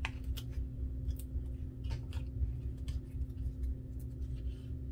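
Scissors trimming a paper piece for a handmade stamped card, a string of quick light snips close by over a steady low hum, with no talking.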